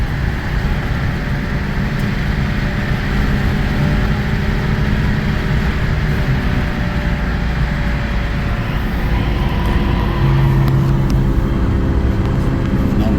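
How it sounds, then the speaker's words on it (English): Steady road and drivetrain drone inside a 2005 Pontiac Vibe with about 250,000 miles and a suspected worn wheel bearing, a continuous loud low hum with no breaks throughout. "You can definitely hear a wheel bearing sound."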